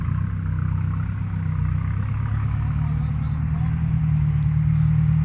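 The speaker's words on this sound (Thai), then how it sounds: "รถอ้อยก็ออกรถดินก็ออก" Sugarcane and dirt trucks roll past on a road, their heavy engines making a loud, steady low rumble that holds throughout without a break.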